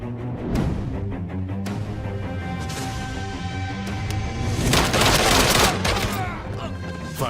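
Several gunshots crack in close succession from a burst of gunfire, loud and near, with sharp repeated impacts and a dense crashing flurry toward the middle.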